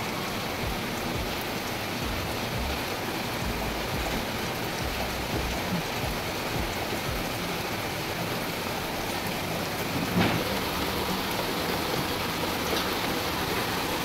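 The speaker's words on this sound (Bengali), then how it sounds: "প্রচুর জোরে বৃষ্টি হচ্ছে।" Heavy rain pours down steadily, a loud, dense, unbroken wash of drumming drops on surfaces that holds evenly from start to finish.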